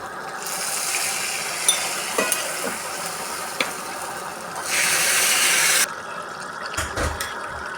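Fried shallot tempering goes into a pot of beef curry with a close sizzle and scraping stir, then a louder burst of hissing frying before a few clinks of the spoon.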